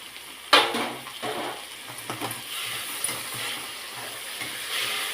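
Tomato added to onions sautéing in a pan, a soft steady frying sizzle with an opening clatter and occasional light scrapes of a spoon, close and without talk.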